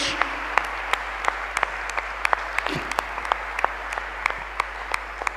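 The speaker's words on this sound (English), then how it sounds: "can we have a round of applause for all the 6 teams on stage?" An audience applauds six quiz teams on stage at a national culture quiz final, with steady clapping in a large hall, sharp individual claps popping out regularly above a continuous hum.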